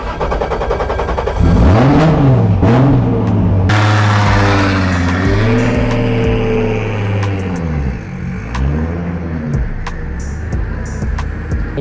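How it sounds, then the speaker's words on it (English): A drift car cranks to life just before the two-second mark, then revs loud and close in repeated rising and falling sweeps, with a sharp crackle right at startup, at a drift series round. "just going to start the car now"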